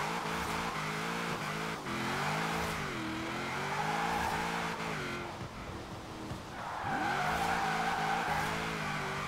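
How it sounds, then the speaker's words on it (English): Engine revving high with long tire squeals as a car drifts at speed in Forza Horizon 4, the pitch rising and dipping through gear changes, loud and continuous without talk. "I'm drifting at 90 miles an hour in this car."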